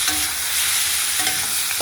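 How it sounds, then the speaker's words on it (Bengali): Hilsa fish with salt and spices stirred in a frying pan, a continuous loud sizzle with scraping stir sounds, close and alone. "নুন দিয়ে নেড়ে নিলাম।"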